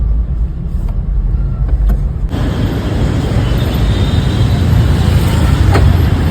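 Cars rolling along a narrow three-lane highway squeezed by metro construction, a close continuous roar of traffic that swells louder after a couple of seconds, with no one speaking.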